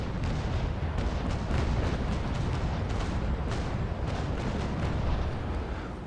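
Sailing warship cannons fire a broadside in the naval combat game Naval Action, the frigate Trincomalee dueling another ship, a dense, loud, continuous barrage of booming shots rolling together without speech.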